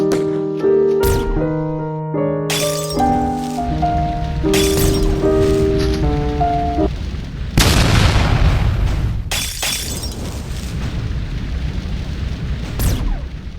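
A bomb goes off in the video game Chicken Gun with a loud, booming blast and shattering debris after a stretch of tonal game music. Further crashing bursts follow.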